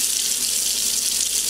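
Cold water streams steadily from a kitchen sink faucet, with no filter fitted below the sink yet: a constant hissing splash, close and even, with no voices.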